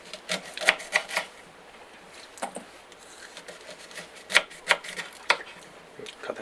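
Knife cutting thick slices of fruit at an off-grid homestead in Portugal, a few crisp close cuts in short bursts separated by quieter gaps, with no talking.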